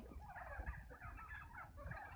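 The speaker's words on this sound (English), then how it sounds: "Tom the turkey, leading the turkeys" A flock of turkeys led by a tom gobble and cluck in short, faint bursts, distant and alone.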